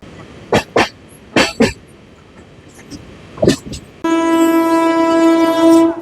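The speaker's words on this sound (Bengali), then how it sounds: "সাঁইথিয়া থেকে রামপুরহাটের মধ্যে এই ট্রেন ননস্টপ চলবে 28 কিলোমিটার" A passenger train on the Sainthia–Rampurhat stretch makes a few sharp bursts, then sounds a loud, sustained horn close by that continues to the end.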